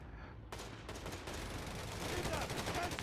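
Machine gun fire in Company of Heroes 3, starting after a short quiet moment and continuing as sustained, rapid bursts of gunfire that grow slightly louder.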